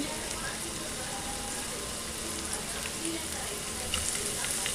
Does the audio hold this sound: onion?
yes